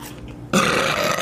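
A loud, close burp after eating kettle corn popcorn, sounding abruptly after a short quiet stretch and rumbling on for under a second.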